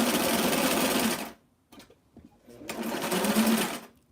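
A sewing machine stitches a seam on a vintage 1990s dress, running steadily, pausing briefly for the reverse, then stitching forward again to finish the seam end. The machine is close and loud and there is no talk.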